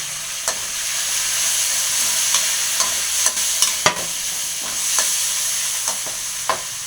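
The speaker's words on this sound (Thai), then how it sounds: "ผัดให้หอม" Krachiao flowers stir-frying in hot oil with golden fried shallots, a continuous close sizzle punctuated by sharp scrapes and clacks of a spatula against the pan at irregular intervals, no talking.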